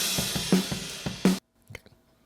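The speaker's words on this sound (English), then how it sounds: "it's a sample crash here." A crash cymbal layered with a sampled crash in a drum mix for a cover song. Several quick drum hits lead into a bright, loud crash that cuts off abruptly, followed by faint taps.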